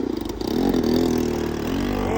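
A motorbike engine revs steadily upward, a loud droning whine that climbs in pitch for about two seconds, close by and alone.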